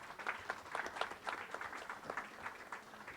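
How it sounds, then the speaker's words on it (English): An audience at a corporate event applauds, a moderate, fairly distant patter of clapping hands that continues evenly for a few seconds. "can we have, again, a big round of applause for Sudhir?"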